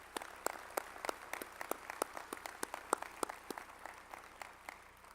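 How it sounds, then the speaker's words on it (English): Sparse, faint applause at an induction ceremony, a few scattered hands clapping in an irregular rhythm, sounding distant and thin. "let's give Carla, who is here tonight, Aaron's mom, a round of applause there"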